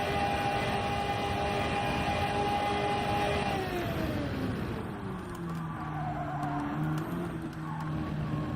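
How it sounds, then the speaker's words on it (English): A race car engine revs hard in the Gran Turismo 7 video game, a loud sustained whine that holds steady and then drops in pitch as the car slows, with tire noise and rumble beneath. "this car's screaming in my ears again"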